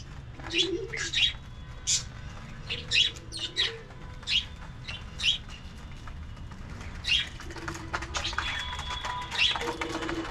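Pigeons released from their coop after a year call with sharp repeated chirps and soft coos, and their wings flap in short bursts nearby. The sounds are irregular and spread over a quiet outdoor background.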